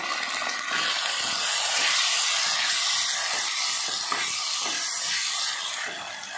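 Chicken liver with ginger-garlic paste frying in a hot pan for a spicy South Indian liver fry, giving off a loud, steady, continuous sizzle and hiss with no voices.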